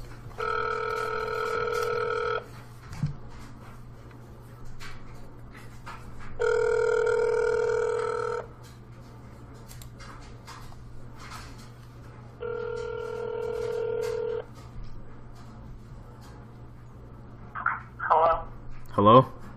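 A phone call rings out over a cell phone in three long, evenly spaced electronic ringing bursts over a low steady hum, followed at the end by brief voice sounds.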